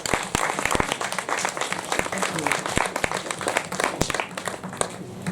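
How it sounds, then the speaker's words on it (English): Dense crowd applause filling the whole stretch, steady and fairly loud, with scattered sharper claps poking through and some voices mixed in. "Another round of applause."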